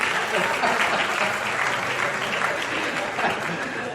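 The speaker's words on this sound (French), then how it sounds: "On applaudit Dorcas qui s'est lâché." An audience applauds at the Miss DR Congo 2016 pageant final, dense steady clapping that fills the whole stretch at an even loudness, with a voice mixed in.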